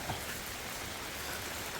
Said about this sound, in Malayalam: മഴ പെയ്ത് തകർക്കുകയാണ്